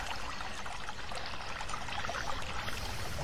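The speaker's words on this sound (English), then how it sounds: "I like that waterfall sound, that's pretty good." Steady rushing, splashing water from a waterfall in a nature-themed video game level, a continuous pouring wash that stays even and fairly quiet throughout with no talk.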